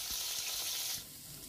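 A brief, fairly quiet stretch of fritters frying in oil as they are turned: a soft, even sizzle that eases slightly toward the end.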